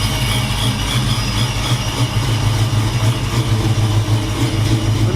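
A tuned car engine idles steadily after ECU adjustments, a loud, continuous low rumble with a smooth, even pulse throughout and no voices.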